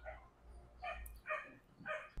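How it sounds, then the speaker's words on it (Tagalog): Several short bursts of dog barking spaced about half a second apart, moderately close but fairly quiet, with yips between them and no talk. "Day 1, puro tahol ng dogs."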